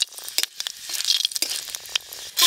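Hot mustard oil crackles and sizzles as five-spice seeds, dried red chilli and bay leaf hit the pan, with sharp bursts of spattering and popping over a steady fry.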